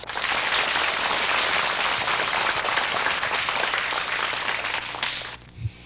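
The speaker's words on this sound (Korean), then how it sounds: "장재혁 어린이에게 그리고 끝까지 함께 해주신 최우성, 김태건, 권호웅 어린이에게 여러분 박수 보내주십시오" Studio audience applauding children on a quiz program, a dense, loud burst of clapping that holds steady and then stops abruptly near the end.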